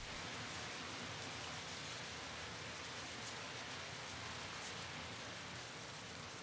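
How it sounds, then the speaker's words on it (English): Steady rain falls as a dense, even hiss in a video game mod, continuous and quiet with no voices. "I like the rain sounds, though."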